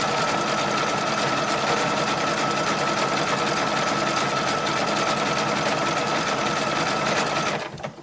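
A sewing machine stitches the skirt of a 1930s-style dress in one loud, fast, continuous mechanical whir that stops abruptly at the end, with no voices.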